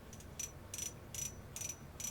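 Clicker of a Tica Cetus SS800 ice fishing reel, faint and quiet, giving five short bright buzzing bursts of clicks at a steady rhythm with gaps between, no voices.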